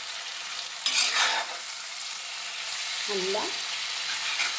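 Yam pieces frying in a pan for a spiced yam fry, a steady close sizzle throughout with a short burst of stirring, while a voice speaks briefly over it.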